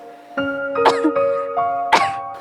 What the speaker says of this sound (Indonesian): Batuk-batuk.